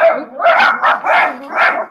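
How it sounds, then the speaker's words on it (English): Several dogs barking in a quick run of four or five loud, close yips and barks, with no talking over them. "Dogs barking"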